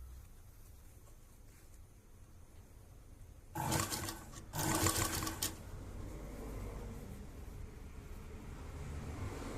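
A sewing machine stitches a door mat from leftover cloth scraps, running in two short close bursts in the middle of an otherwise quiet room.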